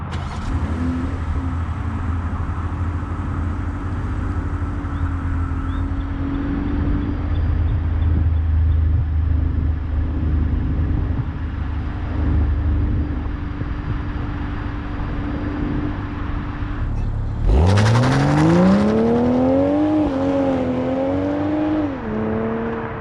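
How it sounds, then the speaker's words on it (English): A 2021 Toyota GR Supra 3.0 in sport mode cruising through North Houston, a steady engine hum and road noise that ends in a loud, rising rev as the car accelerates hard. "I want to hit this start button, put this thing in sport mode, and take you guys and myself for a blast through North Houston."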